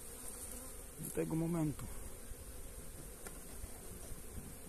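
Honeybees buzzing on a hive frame during a colony inspection, a faint steady hum under a brief burst of nearby speech.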